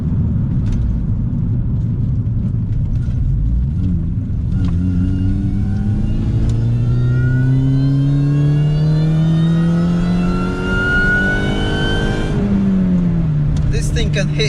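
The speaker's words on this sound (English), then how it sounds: "That supercharger whine, absolutely love it." A Mini Cooper S R53 accelerating hard, its supercharger whine climbing steadily in pitch over the engine's rising drone, dropping as a gear changes, then rising again, loud and close from inside the car.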